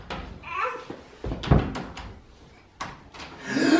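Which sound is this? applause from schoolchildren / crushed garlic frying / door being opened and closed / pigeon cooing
door being opened and closed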